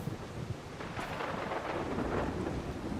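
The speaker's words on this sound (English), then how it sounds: "We'll head out after the storm." A thunderstorm in the video game Solarpunk: a steady hiss of rain is broken by a low thunder rumble that swells in the middle and keeps rolling, with no one speaking.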